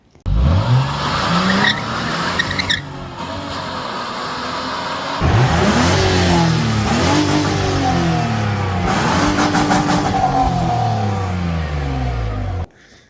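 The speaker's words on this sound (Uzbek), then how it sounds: "Hozir bitta Porterga qo'yilgan motor bor." Engine fitted in a Hyundai Porter truck revving hard and loud in a workshop, rising and falling through repeated throttle bursts over roughly twelve seconds with a brief dip midway, no talking.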